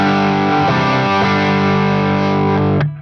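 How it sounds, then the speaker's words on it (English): Dry electric guitar through a Neural Amp Modeler capture of a Tone Junkie BC30 amp on the EF86 channel, loaded with a cabinet impulse response: a sustained, slightly driven chord that rings steadily for nearly three seconds and then cuts off, with no talking. "and we get a dry amp sound like this."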